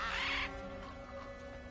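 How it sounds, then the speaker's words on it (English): A single harsh crow-like caw from a bird in God of War Ragnarok, a short loud call at the start that fades into the ambient game backdrop, no talking. "Bird."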